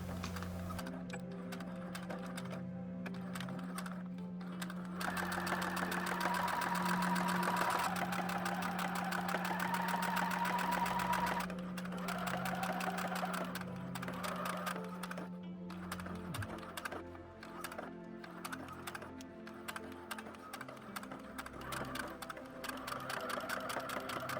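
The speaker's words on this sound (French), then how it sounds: "je vais également réaliser une toute petite couture tout autour de mon ouvrage" Domestic sewing machine running steadily for a long stretch as it stitches a small seam around a fabric holder for three pairs of scissors, a loud continuous motor whir with brief pauses and no talking.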